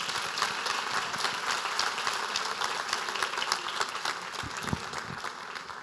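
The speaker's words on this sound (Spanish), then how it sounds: "Démosle un fuerte aplauso al Señor" A church congregation applauds in a sustained burst of dense clapping from many hands, steady and moderately loud with a few sharper claps standing out.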